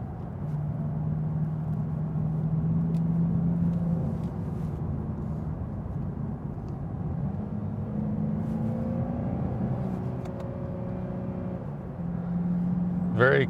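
A 2020 Lexus RC 350 engine hums steadily from inside the cabin, its pitch rising and dropping as paddle shifters swap gears quickly while rounding a traffic circle, a moderate, continuous drone with brief step changes.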